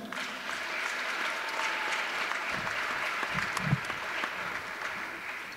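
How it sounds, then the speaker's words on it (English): A crowd at a Belgrade vs. Lewistown girls' basketball game applauds the officials, with sustained, dense clapping filling the gym evenly and a few louder claps standing out near the end. "how about a nice round of applause for our officials today?"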